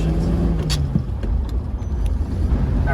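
A 1936 Ford with a flathead V8 driving along, a low steady engine rumble with road noise and a few light rattles and clicks, close and continuous.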